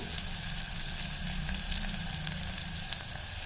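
Onions and raw ginger-garlic paste frying in a pan for an aloo matar gravy, giving a steady close sizzle with faint crackles throughout, no voices.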